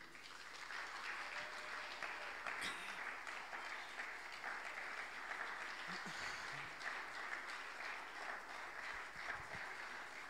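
A live audience at a Saturday talk show applauds and cheers steadily throughout, a dense continuous wash of clapping with a few brief louder shouts and calls rising above it.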